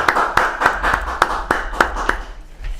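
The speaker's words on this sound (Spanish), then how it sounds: "vamos a recibir con un fuerte aplauso" Sharp, spaced hand claps ringing out close by, roughly three or four per second, with a little scattered clapping behind them, welcoming a speaker at an online talk.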